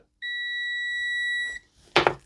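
A single loud, steady electronic beep from a continuity tester checking a Jaguar XKR door handle micro switch holds for over a second, followed by a short burst of noise.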